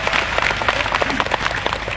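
An audience applauds the district regent at a community gathering with local government and residents in Rokan Hulu, producing dense, steady clapping that fills the whole moment at even loudness.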